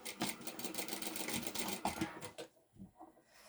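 Sewing machine stitching a short seam on a fabric bag, a steady, close rapid clatter of the needle that runs for a couple of seconds, then stops into faint handling noise.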